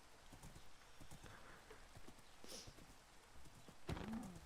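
Horse hooves clip-clop steadily in Minecraft, a slow horse trotting with a brief louder whinny-like burst near the end, under faint game ambience.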